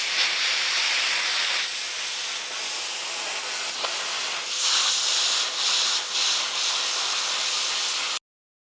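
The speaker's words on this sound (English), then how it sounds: "I'm going to probably tack weld a plate on here and" Tack welding a plate onto a Porsche 915 transaxle gear produces a steady, loud crackling hiss that runs for about eight seconds with small surges, then cuts off abruptly.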